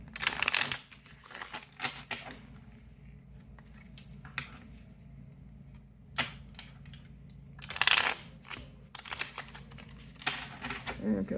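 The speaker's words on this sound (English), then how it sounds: "Okay, that was not a clean shuffle." Tarot cards shuffled by hand in bursts of riffling and rustling, with a loud flurry at the start and another near the end, close and fairly soft, with quieter handling in between.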